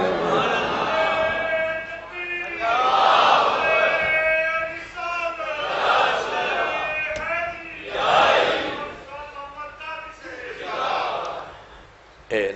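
A crowd at a religious gathering marking Imam Husain's martyrdom shouts slogans in call-and-response waves, a lead voice rising and the mass answering in loud swells roughly every two to three seconds.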